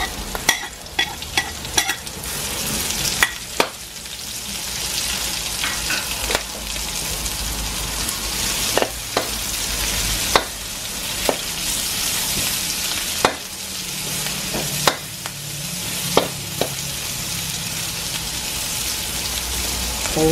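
Red onion frying and sizzling in a pan, a steady crackling hiss broken by repeated sharp scrapes and clacks of a utensil stirring, with no talking.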